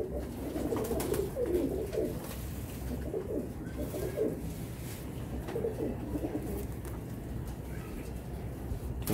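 Pigeons coo softly in low, rolling phrases, repeated several times against a constant background hum.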